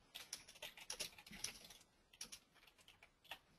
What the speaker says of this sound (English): I'll just type in some question.